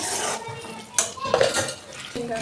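A spoon scrapes and clinks against a metal pot while tamarind rice is mixed with oil-fried lentils, producing a few sharp metallic knocks and soft scraping stirs, close and fairly quiet.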